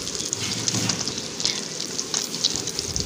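Egg paneer frying in a pan and browning on both sides, giving a steady close sizzle and crackle like light rain, with no talk.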